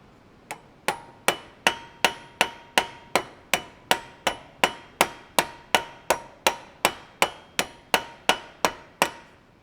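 A metal rivet being hammered on a handmade candle holder with a heart-shaped handle, about twenty-two sharp, ringing blows in a steady, even rhythm, close and loud, each with a brief metallic ring.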